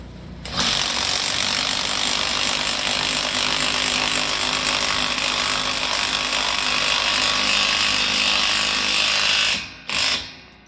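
A power drill whirs loudly and continuously for several seconds driving a screw into a deck rail through an extension, then stops with a brief final burst.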